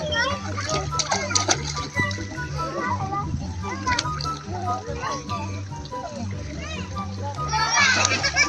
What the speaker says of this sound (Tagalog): Enjoy na enjoy si Dylan sa paglangoy sa swimming pool